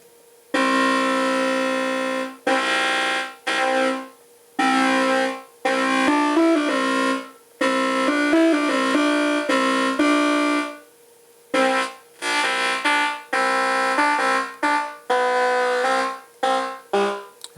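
Buzzy pulse-wave tones from an Erica Synths educational Eurorack VCO kit play loud and alone, in short stepped bursts and sustained notes with brief gaps, shifting pitch like a simple melodic pattern.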